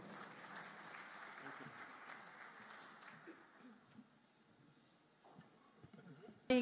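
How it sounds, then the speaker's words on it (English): An audience applauds at a tourism conference, steady clapping that thins out and fades, followed by a faint voice and a sudden loud bump at the very end. "Another round of applause for her."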